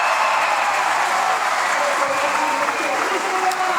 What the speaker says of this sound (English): That gets the crowd fired up.